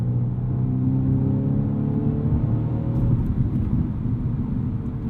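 A 2020 BMW M235i Gran Coupe's inline-four accelerating in sport mode produces a steady, loud engine drone with rising harmonic whine, heard from inside the cabin throughout.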